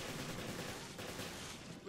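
Rapid automatic gunfire in Resident Evil Revelations forms a dense, continuous crackling barrage that fills the whole stretch at steady loudness, with no pauses between shots.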